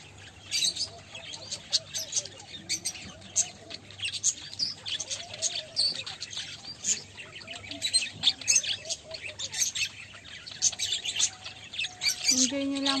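Many birds chirp, tweet and squawk at a farm in the UAE, a busy overlapping chorus near and far with duck-like calls and brief low voices.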